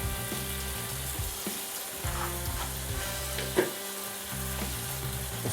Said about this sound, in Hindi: इसको हिला लेते हैं अच्छी तरह।